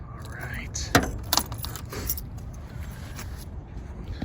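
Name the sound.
car keys jangling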